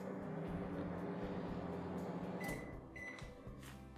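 An IFB 30SC4 30-litre convection microwave oven hums steadily after starting in convection mode at 140 degrees, followed by a few faint clicks and beeps near the end.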